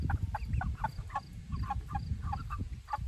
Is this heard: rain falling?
no